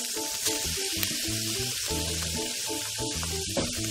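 Onions and canned mushrooms fry in a pan for beef stroganoff, giving a steady crackling sizzle with a few sharper pops, over quiet low tones in the background.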